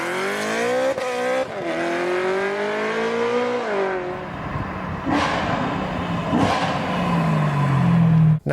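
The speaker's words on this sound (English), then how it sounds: "the S65 is an awesome little 4-liter V8 engine, and not only that, it sounds absolutely incredible." A BMW S65 4-liter V8 revs hard and alone, its loud harmonic engine note climbing and falling through several sharp throttle blips, then settling into a low, rumbling drone.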